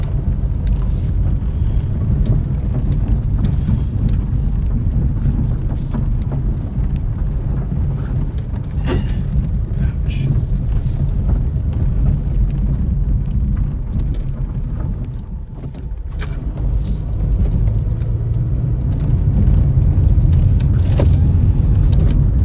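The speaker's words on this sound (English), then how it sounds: "off-roading in the Corolla now." A Toyota Corolla driving off-road, with a steady low engine and tyre rumble over rough ground running throughout, loud and close, dipping briefly midway before building again.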